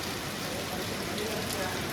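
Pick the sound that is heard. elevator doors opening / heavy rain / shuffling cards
heavy rain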